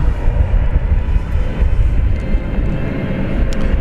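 A Qantas airliner bound for Sydney roars steadily at night at Dallas Fort Worth International Airport, a constant broadband engine rumble heavy in the low end with no talk.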